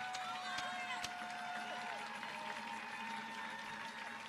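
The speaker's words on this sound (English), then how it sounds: "we clap and we honor them" A crowd at a Unite Against Hate counter-protest rally in Washington, DC claps in a continuous, fairly distant patter while a voice talks over it.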